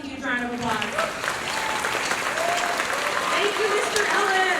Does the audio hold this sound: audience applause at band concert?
yes